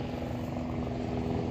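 Helicopter passing over a hillside trail at Chobar Hill, a steady droning rotor and engine hum with a strong tonal whine, continuous and moderately loud, heard at a distance without talk.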